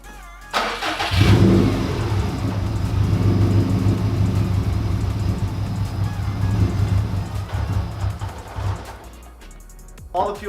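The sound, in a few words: Subaru STI engine starting and running to clear fuel pressure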